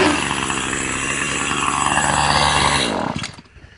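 A Troy-Bilt weed eater engine runs loud and steady with a raspy two-stroke buzz for about three seconds, then cuts off abruptly and falls quiet.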